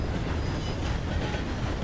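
Train rumbling along the tracks while being driven in Red Dead Redemption 2 free roam, a steady low, dense rolling noise with no clear clicks, holding even and fairly loud throughout.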